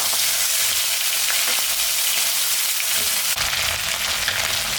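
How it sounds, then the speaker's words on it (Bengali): Fish fat sizzling hard in hot oil in a pan for a Bengali tel chorchori dish, a loud, dense, continuous crackle that rises slightly toward the end. "আমি এখন তেলটা ভাজি নিই।"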